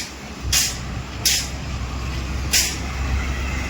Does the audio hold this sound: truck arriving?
yes